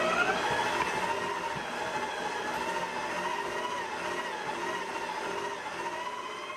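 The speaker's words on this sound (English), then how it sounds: "this little mixer was able to handle a small dough of this size" A small VIVOHOME stand mixer kneads a small batch of dough, its motor whirring in a steady, moderately loud drone with a faint wavering pitch and no talking.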